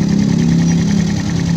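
A Yamaha Jupiter Z / Vega ZR motorcycle engine idles smoothly after installation, with a loud, close, steady low hum and even, regular pulsing throughout.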